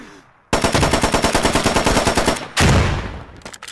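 Rapid automatic fire from a G3A3 rifle in the Squad video game: a sustained, loud string of shots for about two seconds, then a second short, heavy burst that trails off.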